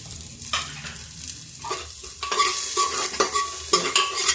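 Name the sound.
onion being stirred and sizzling in tadka for moong dal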